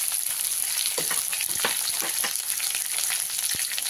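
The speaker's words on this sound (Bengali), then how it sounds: "আলুটাকে লাল লাল করে ভেজে নেব।" Salted potatoes with turmeric frying in a pan, sizzling steadily and loudly throughout, with occasional soft knocks of stirring and no voices.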